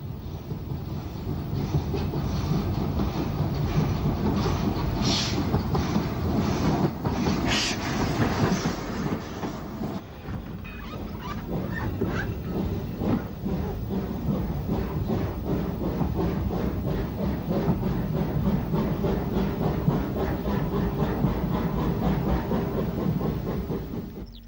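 A train on the Isle of Wight railway near Wroxall heads towards Ryde, its steady rumbling roll and rhythmic clickety-clack of wheels on rail joints continuing loudly and evenly throughout, with occasional brief hissing.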